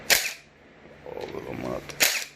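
Valve cover bolts on a Honda K20 engine are loosened, giving two sharp, loud cracks as bolts break free, with a softer ratcheting rattle between them.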